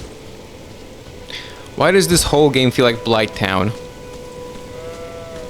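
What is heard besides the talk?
rain in the video game Elden Ring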